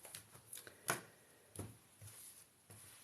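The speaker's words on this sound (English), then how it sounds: "So let's shuffle these cards." Quiet, soft riffling and tapping of cards being shuffled, in several short bursts with pauses between, close and faint.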